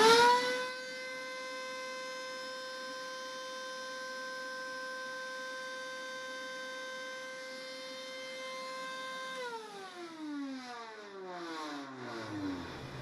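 A 2.5 horsepower shop vac runs at a steady, even whine. Near the end the motor winds down and the pitch falls as it shuts off.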